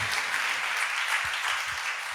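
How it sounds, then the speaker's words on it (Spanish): A church congregation claps together in a dense, steady wash of applause that carries on throughout at moderate distance. "Dele palmas a Cristo Jesús"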